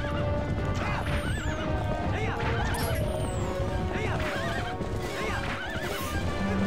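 A horse in the video game The Legend of Zelda: Twilight Princess gallops with rapid clip-clop hooves and gives repeated neighs over steady game music and effects, with a player's voice occasionally speaking.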